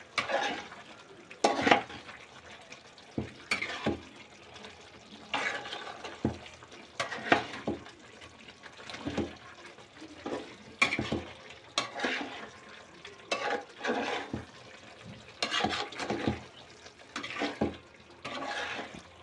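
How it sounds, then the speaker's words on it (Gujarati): Chicken and potato curry with masala is stirred in a pot: repeated close scraping and sloshing strokes in an irregular rhythm, with short pauses between bursts and no talking. "અને હવે આપણે એને હલાવી નાખીશું"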